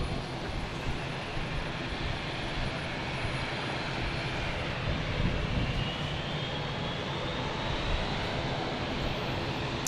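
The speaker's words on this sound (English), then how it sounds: "Airbus A320 here." An Airbus A320 jet taking off from a runway at Fort Lauderdale International Airport in Florida gives a loud, steady, broadband engine roar that holds for the whole stretch with no talk.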